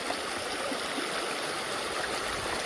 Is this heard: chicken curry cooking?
no